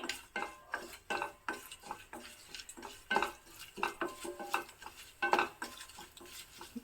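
Curry leaves sizzling in hot tempering oil with dried chilli and asafoetida for a palya, heard as a soft crackle with repeated rhythmic stirring scrapes and clinks of a spoon against the pan.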